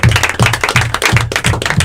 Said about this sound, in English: Give yourself a bigger round of applause.